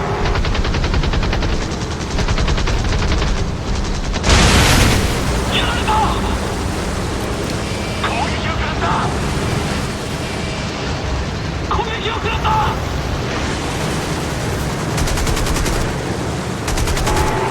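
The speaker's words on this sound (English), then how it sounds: "Open fire! Open fire!" Aircraft machine guns in the Xbox 360 combat flight game Birds of Steel fire in dense, continuous bursts over engine roar, with a loud blast around the four-second mark and voices shouting throughout.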